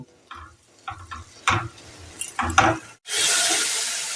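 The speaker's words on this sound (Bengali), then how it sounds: "এটা হাই ফ্লেম রেখে মশলাটাকে আমি কষিয়ে নিলাম" Spices with a pinch of Kashmiri chili powder are stirred and fried on high flame for radish ghonto. Scattered clinks and short sizzling bursts from the spatula give way to a loud, steady sizzle.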